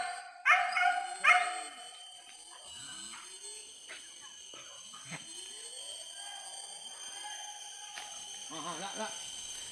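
Hunting dogs bark during a Sunday wild boar hunt outdoors: two loud, sharp barks near the start, then quieter scattered yelps and calls, with faint voices in the background.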